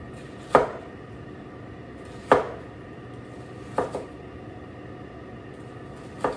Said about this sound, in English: Now this half of an onion, I'm just slicing it